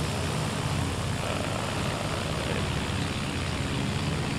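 Simulated de Havilland Tiger Moth biplane engine at idle throttle in the IL-2 Sturmovik combat flight game, a steady, dense propeller drone that stays loud and even throughout with no talk over it.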